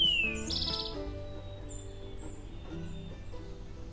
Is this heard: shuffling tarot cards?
no